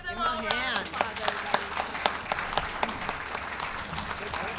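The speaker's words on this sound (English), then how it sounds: "Let's give them all a hand. Round of applause," A crowd at a scholarship awards event applauds the students: sustained clapping with sharp individual claps standing out near the front, and a voice talking over the start.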